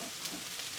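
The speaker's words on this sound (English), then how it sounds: "I'm just gonna throw all of this, the onions and the peppers in the pan, and give it a little bit of a saute." Onions and peppers sautéing in a pan give off a brief, steady broadband sizzle, faint and even throughout, with no voices.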